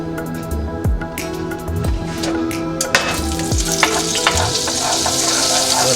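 Butter melting into a couple of tablespoons of oil in a soup pot, a steady close sizzle with light crackle and a few scraping stirs, no voices.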